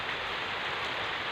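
Steady rain falls heavily in a dense, even hiss with a close, constant patter and no voices.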